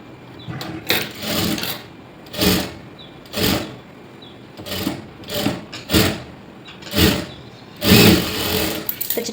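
A sewing machine stitches a blouse sleeve in a series of short, separate bursts of whirring, about nine runs spaced through the stretch, close and fairly steady in loudness with quiet gaps between.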